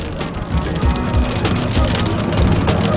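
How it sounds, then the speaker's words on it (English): Steady rain drumming on a moving car during a road trip from Texas to Tennessee, just past a storm near Memphis, a dense continuous patter with low road rumble underneath and no talking. "Still raining."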